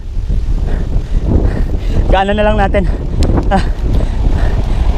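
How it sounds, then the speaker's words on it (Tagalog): Blustery wind buffets the microphone with low rumbling gusts while a person speaks briefly. "Tapos ang lakas pa ng hangin."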